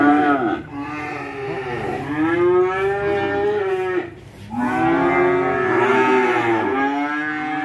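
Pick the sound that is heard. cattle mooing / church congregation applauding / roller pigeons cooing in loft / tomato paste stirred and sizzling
cattle mooing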